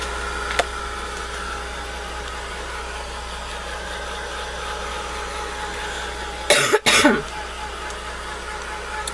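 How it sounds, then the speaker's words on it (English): A short burst of coughing, two or three harsh hacks close by, breaking a long stretch of quiet hum. "I'm still coughing a bit."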